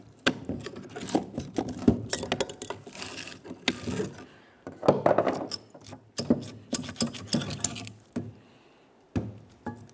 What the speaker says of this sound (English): If you can't do it by hand, just go ahead and use a pry bar.